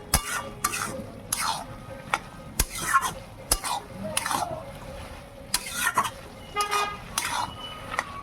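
A spoon scrapes and stirs spinach with prawns in a pan, gentle sizzling underneath as repeated scraping strokes come in an uneven rhythm, close and fairly clear.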